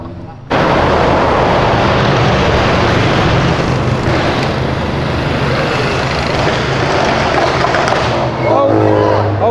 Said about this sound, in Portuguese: Tá acelerando agora.